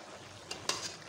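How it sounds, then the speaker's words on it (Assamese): Mutton frying in a pan for an Assamese gravy, a steady faint sizzle with a few brief stirring scrapes, quiet and close with no talking. "অলপ ভাজিলোঁ মাংসটো"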